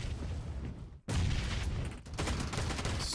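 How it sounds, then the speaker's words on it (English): Grenades bursting in PUBG Mobile during a competitive esports match, loud overlapping blasts and crackling debris with a brief drop to silence before another heavy burst and continued rumbling chaos. "So many nades just popping off all over the place"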